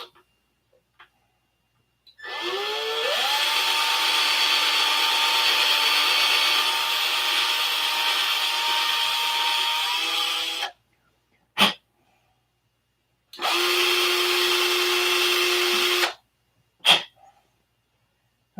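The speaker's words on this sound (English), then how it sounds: "I can take the drill here and drill right straight down" A power drill bores straight down into a wire flap clip: a loud, steady whining run of about eight seconds with rising pitch at the start, then a short blip, and a second shorter burst of drilling alone.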